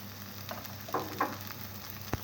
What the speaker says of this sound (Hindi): हमारा हलवा बहुत अच्छे से फ्राई हो रहा है।